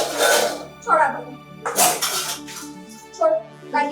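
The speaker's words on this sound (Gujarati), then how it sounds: "સાક્ષી કેમ વાસણ સાફ કરે છે?" Dishes being washed in a kitchen, with a series of separate metal utensils and pans clattering and clinking in uneven bursts at close range.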